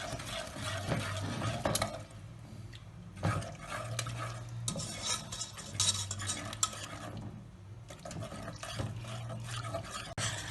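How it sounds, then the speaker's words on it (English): A whisk scraping and clinking around a pan as infused milk is worked into a sauce for chicken à la king, in repeated stirring strokes with pauses, close and moderately quiet. "Whisk until you get a smooth consistency, then add in the remainder of the infused milk."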